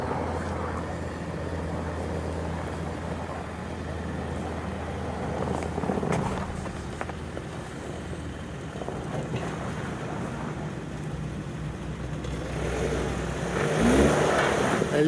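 A Toyota RAV4 XLE AWD engine drones steadily as the SUV climbs a snowy, icy hill, a continuous low hum with slight rises in revs and wind-like rush, tire noise swelling near the end, no speech.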